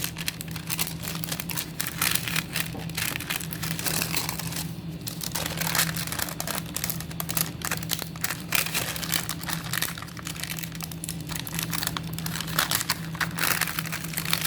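Epoxy resin paper is peeled away from its backing to reveal it, a steady stream of close crinkling and crackling paper noise that continues for the whole stretch, with no voices.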